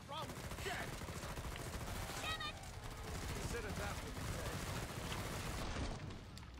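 Gunfire in the video game Killing Floor 2: rapid bursts of shots and booms under a dense mix of game noise, with someone talking and laughing over it.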